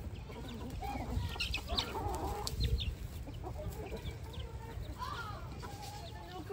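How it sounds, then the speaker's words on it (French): Chickens cluck and squawk nearby on a farm, with scattered calls rising over a constant background hum and occasional soft voices. "c'est rigolo les poules"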